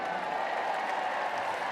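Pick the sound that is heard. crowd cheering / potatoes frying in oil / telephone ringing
crowd cheering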